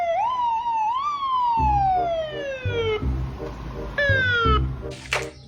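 A toy fire truck's electronic siren wails in rising and falling sweeps, loud and close, with a low mechanical rumble and clicks underneath and a short bright clatter near the end.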